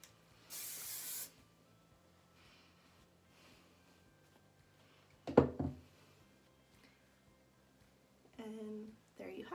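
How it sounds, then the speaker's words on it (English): Two brief hisses of hair setting spray, one early and one near the end, with faint rustling and a sharp knock in between. "Normal setting spray."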